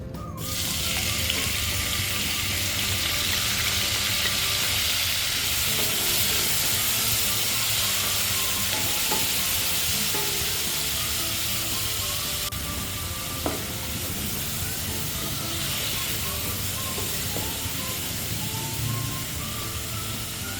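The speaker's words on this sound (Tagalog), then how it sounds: "gustong-gusto ko nang nagigisa. Feeling ko kasi mas lalo pang bumabango yung mga aroma." Aromatics for a pompano tinola sauté in a pan with a loud, continuous hissing sizzle, close up and unbroken, with occasional faint clinks of a utensil and no talking.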